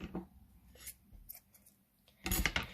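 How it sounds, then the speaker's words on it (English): Scissors snip crochet yarn while a summer coaster is being finished: a few faint, quick cuts at first, then a louder, sharper closing snip near the end. "So let's cut our yarn."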